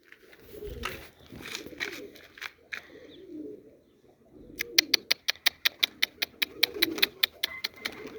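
Pigeons coo repeatedly on a rooftop loft, their low murmuring calls running throughout, with chirping young birds and a quick series of sharp clicks or wing claps in the second half.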